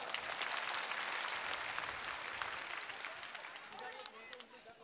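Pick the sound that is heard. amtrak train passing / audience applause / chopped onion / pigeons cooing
audience applause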